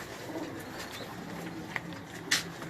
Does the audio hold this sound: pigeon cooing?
yes